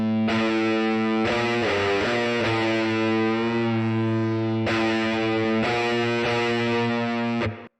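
Heavily distorted electric guitar through a Quad Cortex heavy preset, recreating the tone of a song, plays sustained, thick chords alone for nearly eight seconds, loud and steady before cutting off abruptly.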